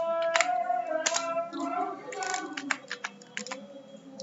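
Typing on a computer keyboard while entering text into a WordPress site, a close run of quick, uneven key clicks with brief pauses, and a voice talking faintly in the background.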